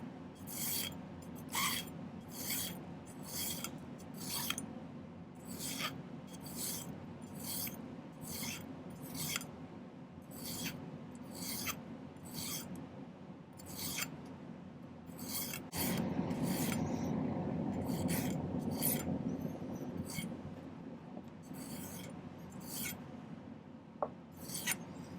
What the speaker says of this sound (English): I'm going to file this gradually down to a point on each end